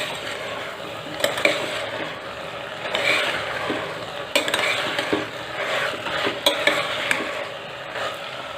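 Bottle gourd pieces and moong dal are stirred in a pan with a utensil, giving repeated scraping and clattering strokes over a soft sizzle, close and fairly loud.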